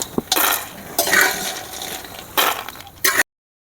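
Fried bori lifted out of a pan of hot oil, with a few sharp clinks and scrapes of a spoon against the pan, each followed by soft sizzling, close and fairly loud.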